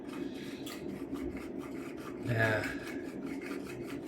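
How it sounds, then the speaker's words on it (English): Dried blue lotus flower being crushed in a herb grinder gives a steady, close, raspy grinding that keeps going without a break and swells briefly near the middle. "I'll give her a wee grind here"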